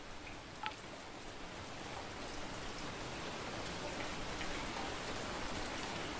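Light rain falls steadily in Ultimate Fishing Simulator 2, on a river in Slovakia, a dense even hiss of drops with a faint tick or two, continuous and close throughout.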